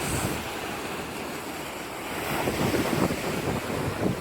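Ocean waves wash and roll steadily onto the shore at Corito Bay Beach, Anguilla, mixed with gusty wind buffeting the microphone; no voices.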